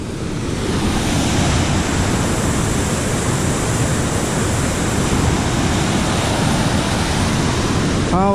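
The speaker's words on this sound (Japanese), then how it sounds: "川の流れもかなり激しいです。" A fast, swollen mountain river rushes along a rough forest road in the Kinan region of Wakayama after rain, producing a loud, steady roar that fills the whole stretch.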